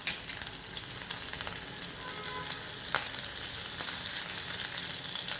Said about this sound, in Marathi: अर्धा टीस्पून जिरं घालते। 2 हिरव्या मिरच्या बारीक चिरून घेतल्या त्या घालते।